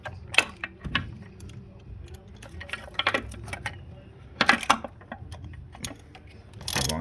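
A ratchet wrench tightens a spark plug on a 2005 Ford Escape, giving short bursts of clicking and metallic taps spread over several seconds, close and fairly quiet, with occasional faint voice between bursts.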